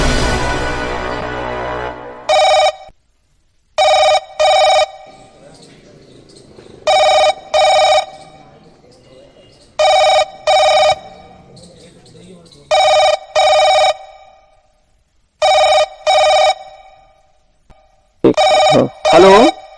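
Repeated telephone ringtone during a phone-a-friend lifeline call on a Hindi quiz show, sounding in paired bursts about every two and a half seconds, clear and loud over a low background hum, after an opening swell of music.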